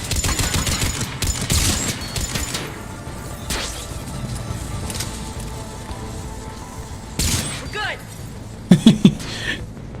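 Gunfire in the Mass Effect 3 video game comes in rapid bursts and single cracks, with a cluster of sharp, loud shots near the end as a headshot lands.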